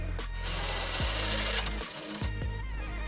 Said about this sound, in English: now we got that 1/2 inch drill here. I'm just gonna finish it off